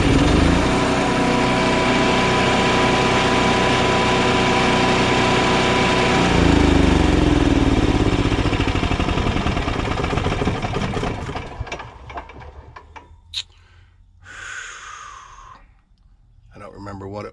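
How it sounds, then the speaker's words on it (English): Small Cummins engine running on the starter, loud and close with a rough steady drone that surges and then dies away, leaving quiet with a few brief sounds and some breathing near the end. "It'll run when you hold the starter. When you let off the starter,"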